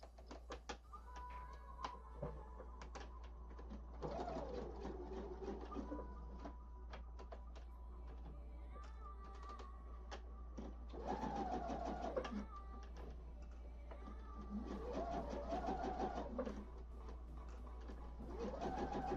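Sewing machine stitching a cosplay costume, running in several short bursts of rapid mechanical whirring separated by pauses and a low steady hum, fairly quiet and close.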